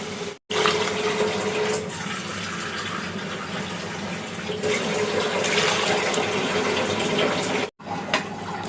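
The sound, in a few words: pouring broth into the masala for hilsa curry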